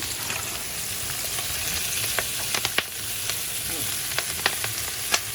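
Chopped onions, unpeeled carrots and celery sautéing together in a pot give a steady, close sizzle, with scattered sharp pops and crackles throughout.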